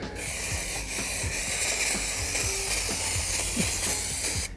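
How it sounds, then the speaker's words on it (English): A continuous loud aerosol hiss from a can of contact adhesive sprayed for car carpet, steady for several seconds with faint clicks and taps underneath. "I would spray your contact adhesive"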